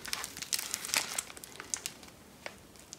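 Plastic Lego packaging crinkles and tears as it is cut open, a close, quiet run of rustling and snipping bursts with no talk.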